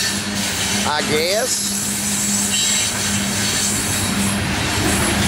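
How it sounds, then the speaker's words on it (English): A CSX grain train led by several AC44 locomotives rolls steadily onto a siding, a continuous loud rumble of rail cars with a brief squeal, under a short remark from a nearby voice. "So this is the Shelby grain train"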